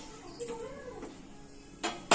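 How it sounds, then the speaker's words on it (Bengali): A metal pitha mould set down onto a gas stove burner in a home kitchen, giving a couple of short clanks and a final sharper knock, close by and fairly quiet. "এবার আমি ছাঁচটা গ্যাসে বসিয়ে দিচ্ছি।"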